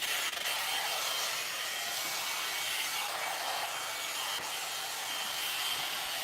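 A hair dryer runs steadily and close by, a continuous broadband blowing whoosh with no breaks and no talking.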